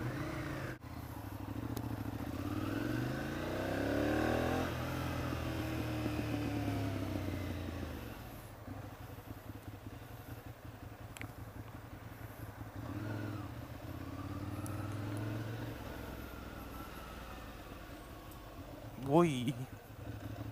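A white Ducati Monster 659 motorcycle rides along with a steady engine drone that swells and fades, then a short sharp rise near the end.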